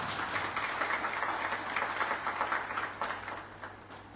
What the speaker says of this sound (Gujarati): ગામમાં તાળીઓથી વધાવીએ